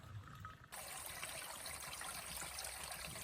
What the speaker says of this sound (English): Found a great little stream trickling out the side of the mountain.